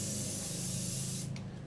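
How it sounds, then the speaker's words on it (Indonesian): Hairspray hissing steadily onto styled, teased hair in a close continuous spray that cuts off abruptly near the end. "Kita spray dulu."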